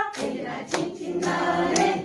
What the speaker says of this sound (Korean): 손날 박수 신장에 좋아